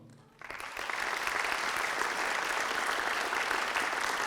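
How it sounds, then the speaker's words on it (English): At a scholarship awards ceremony, a sudden swell of applause rises from a large audience after a quiet start, settling into a steady, full roar of clapping hands. "Young people, would you please join me in applause, especially for your parents, and appreciation with the applause."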